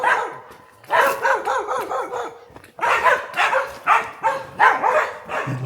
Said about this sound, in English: there are the puppy dogs guarding the compound.